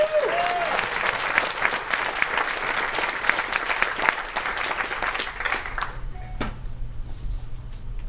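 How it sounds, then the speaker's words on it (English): An audience at a founder conference breaks into a big round of applause, dense clapping that thins toward the end as a low hum and a brief voice emerge. "Let's give him just a big round of applause."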